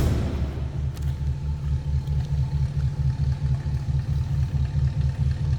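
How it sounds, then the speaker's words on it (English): A 1950 Ford Custom sedan's flathead V8 idles through true dual exhaust with glass-pack mufflers, giving a steady, loping low rumble with a faint rhythmic clatter, close by and alone. "Little rumble coming out of that flatty."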